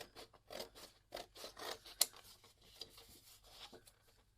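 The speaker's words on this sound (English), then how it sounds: "So with a pair of my big scissors, and do use a paper trimmer if you don't find it comfortable using scissors, I'm just going to cut round my pencil line." Big scissors cut paper along a pencil line in a series of quiet, crisp snips and rustles, one sharper clack midway, with no talking.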